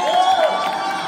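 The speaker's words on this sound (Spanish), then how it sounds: "un fuerte aplauso para Alex Domínguez" A live audience at a family show claps and cheers in a dense, continuous burst of applause, loud and close, with a voice rising briefly above the crowd noise.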